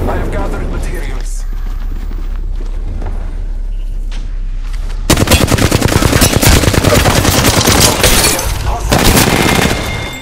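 Apex Legends weapons fire in rapid automatic bursts, a loud close rattle of shots that starts midway through after quieter game ambience and continues with a short pause, dense and relentless.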